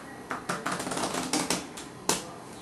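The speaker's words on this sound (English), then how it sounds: "I'm going to take these two piles of face up and face down cards and shuffle them together" Two piles of playing cards, some face up and some face down, are riffle shuffled together, giving a close, crisp run of rapid flutters and snaps ending in a sharp final clack.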